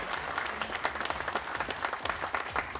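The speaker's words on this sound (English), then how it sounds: "Another round of applause for Colin." An audience at a founders' keynote event applauds after the talk, a brisk, even patter of many hands heard at moderate distance and fairly soft, with no speech over it.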